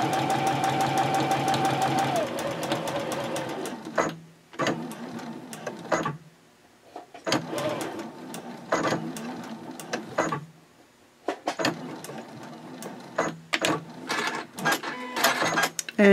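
A sewing machine stitches lines on a mini backpack card holder at a 2.6 stitch length, running in a steady burst and then in short stop-start runs, with a voice talking over parts of it.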